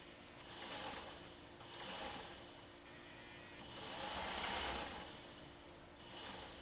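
A sewing machine runs steadily at slow speed under foot-controller control, its motor whirring continuously with gentle surges and dips in pace, close and moderately loud with no talk.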